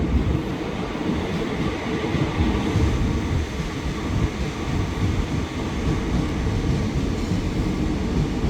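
A commuter train rumbles steadily into a platform at Bekasi station, Indonesia, a continuous heavy roar of wheels and motors with no voices.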